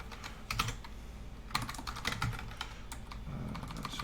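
Quick clicking keystrokes on a computer keyboard as a Linux command is entered, irregular taps in short bursts with a few louder strikes, close and unaccompanied by speech.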